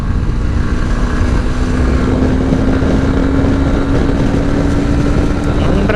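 Honda CB200X motorcycle engine pulling hard through third and fourth gear near 8000 RPM, a steady loud drone with a rising tonal whine, heavy wind rush over the microphone throughout.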